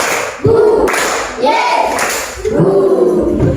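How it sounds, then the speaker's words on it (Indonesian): Children in a classroom clap along to a counting chant, sharp grouped claps in a few bursts with a teacher's and kids' voices chanting between them, close and loud. "Tepuk 1, 2, 3."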